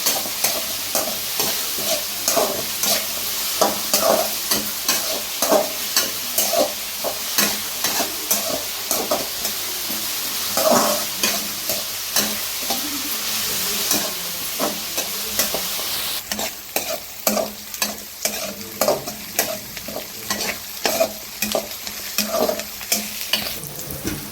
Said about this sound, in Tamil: இப்போ நம்ம வெங்காயத்தை நல்லா பொன்னிறமாக வதக்கலாம்.